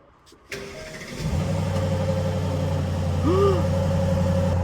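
A Mercedes-AMG GT63 with a 48-volt fault and warning lights showing cranks and fires up, settling into a steady, loud idle close by after a short start burst.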